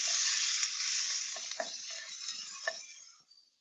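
Moqueca fish stew stirred in a pot, the spoon scraping and clinking against the sides over a steady loud sizzle that fades toward the end.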